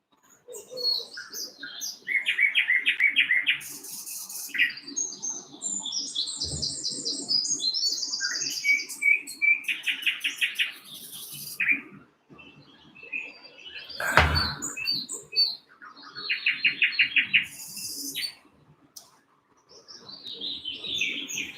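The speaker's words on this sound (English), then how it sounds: "Can you hear the birds?" Several birds chirp and trill outdoors, bursts of high tweets and rapid warbles repeating with short pauses, fairly close and clear.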